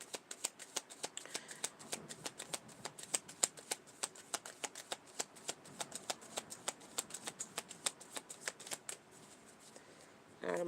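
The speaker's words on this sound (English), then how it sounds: "Alright, I'm going to bridge this 2 times. 2 times shuffle." A deck of tarot cards is riffled and bridge-shuffled close up, making a rapid, steady run of crisp card flicks that continues for most of the stretch and then stops near the end.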